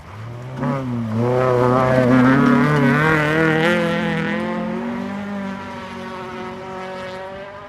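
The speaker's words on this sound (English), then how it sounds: "So Brian Gottlieb, though, driving this Honda Civic" A Honda Civic rally car built by Derek Nelson with trick parts, driving a stage of the 2012 Oregon Trail Rally: a loud engine climbs through rising revs with strong harmonic whine, then eases slightly as it holds speed.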